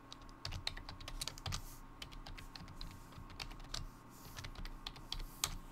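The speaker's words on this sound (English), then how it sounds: "let me type it out in the chat" Rapid, irregular clicking of keys as a message is typed on a computer keyboard, close and clear, with no voices over it.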